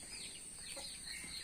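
Hens cluck softly nearby in short, overlapping calls over a faint background hiss.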